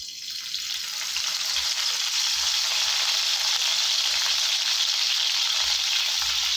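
Fresh curry leaves fry in hot oil for a Tamil-style raw banana fry, a steady loud broadband sizzle that holds evenly throughout, close up, with no talking.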